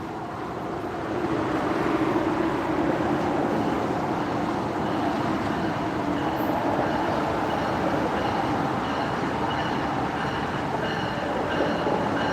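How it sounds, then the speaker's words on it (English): A train with an L45 dual-mode locomotive at its head rolls past nearby, a steady, loud rumble of wheels and railcars lasting the whole stretch, with no talking. "Oh, there's a train."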